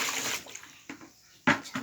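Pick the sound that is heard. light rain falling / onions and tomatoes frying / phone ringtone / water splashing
water splashing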